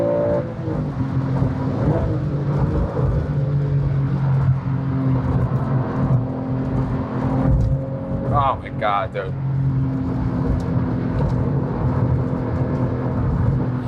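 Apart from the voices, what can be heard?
2004 Porsche GT3 driven fast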